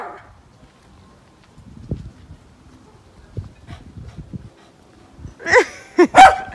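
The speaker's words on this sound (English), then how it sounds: "Guys, this dog is so cute." A dog on a residential street in Jamaica barks a few times near the end, loud and close, after a stretch of soft shuffling and faint footstep-like sounds.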